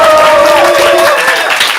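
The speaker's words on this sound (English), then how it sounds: "Applaud now." Loud applause with cheering and whooping voices from a student stand-up showcase crowd for the red team, dense clapping rolling on steadily close to the listener.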